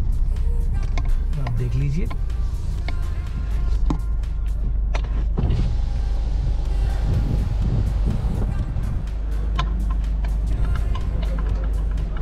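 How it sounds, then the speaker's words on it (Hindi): A Tata Safari SUV is driven and then parked, giving a steady low engine rumble and road noise throughout, with people talking over it. "ये मैं गाड़ी ले जा रहा हूँ, ये मैंने गाड़ी यहाँ पे लगा दी है"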